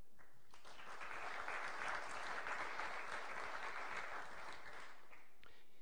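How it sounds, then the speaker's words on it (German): A political discussion audience breaks into applause, which starts sharply, holds as a dense, even clatter of clapping for several seconds, then drops off abruptly at the end. "Applaus"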